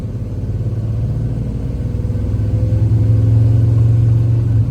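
A 1988 GMC Sierra SLE pickup with a 5.7 Chevy engine runs close by with a deep, throbbing rumble. The revs climb as the engine is opened up, still cold and warming.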